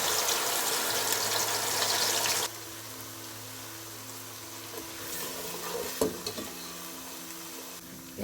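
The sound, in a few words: ground onion frying in hot ghee with whole spices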